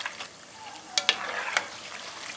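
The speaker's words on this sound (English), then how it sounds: "It fries very quickly, but that's something you cannot just put in the oil and leave for a while" Steady sizzling and bubbling of homemade corn tortilla chips frying in hot oil, with a few sharper pops and crackles.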